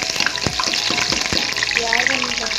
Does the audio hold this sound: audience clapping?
no